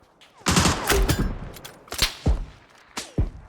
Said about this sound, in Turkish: Kanka birisi sağdan sıkıyor